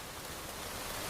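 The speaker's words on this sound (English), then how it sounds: "It is raining. Yes, it is raining a lot." Heavy rain falling steadily during a walk outdoors, a constant even hiss of downpour throughout, moderately loud and uninterrupted, with no voices.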